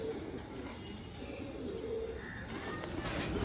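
A pair of Girebaz flying pigeons coo softly and continuously, low throaty calls repeating under a constant background, with a few faint higher chirps near the end.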